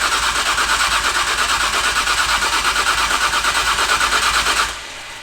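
Nissan R34 GTR starting for the first time, the engine catching and running with a loud, steady, slightly uneven drone for several seconds before cutting off abruptly.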